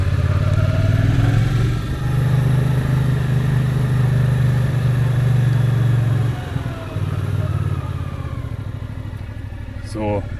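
A brand-new motorcycle with barely a kilometre on it rides on a road, its engine a steady loud drone that dips briefly and returns, close and continuous throughout.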